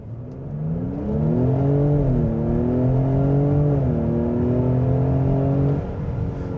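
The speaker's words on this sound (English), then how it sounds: "if you're gonna be doing mid 5-second runs 0 to 60 in this car" A 2025 Lincoln Aviator Reserve accelerates hard in a 0-60 run, its engine whirring and climbing through several gear shifts, loud and steady from inside the cabin before easing off.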